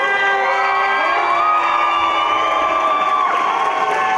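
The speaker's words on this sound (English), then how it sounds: "let's have another round of applause for our actors, the ABC players" Theatre audience at a curtain call for the ABC players erupts in loud, sustained cheering, whooping and shouting over clapping, a dense and close roar with high pitched voices rising and falling.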